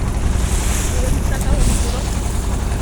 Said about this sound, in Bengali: বর্তমানে আমরা ট্রলারে আছি।